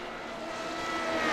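Formula Renault 3.5 race cars at Spa-Francorchamps scream past, their high engine whine holding steady and then rising in pitch as a car nears, growing louder over a moment.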